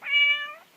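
A single clear cat meow from a room holding eight cats, close and fairly loud, a smooth tonal cry lasting under a second.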